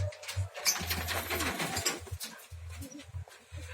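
Birds, apparently pigeons or doves, coo in low repeated bursts close by, with brief pauses between calls and faint higher chirps and rustle in the background.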